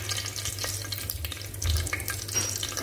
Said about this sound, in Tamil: இப்போ பாருங்கள் பிரிஞ்சி இலை வந்து நல்லா நம்மளுக்கு ஃப்ரை ஆகிடுச்சு